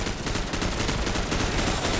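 Sustained automatic gunfire in Call of Duty 4, a loud, unbroken stream of rapid shots filling the whole stretch at an even, driving rhythm.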